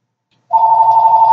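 A telephone starts ringing abruptly after a moment of silence, a loud steady electronic trill that continues close up to the end.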